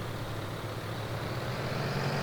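Tractor engine in Farming Simulator 19, a steady low rumbling drone that holds even and fairly loud throughout, with a slight rise toward the end and no talking.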